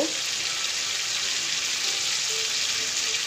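Fried potatoes go into hot oil for a mock fish curry, giving a continuous, even, loud hiss of frying close by with no break for the whole short stretch and no voices.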